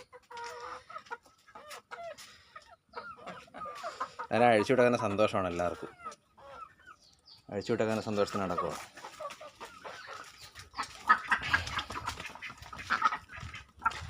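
A Kappiri breed hen clucks in bursts near the microphone on a poultry farm, with a person talking in between and around the calls.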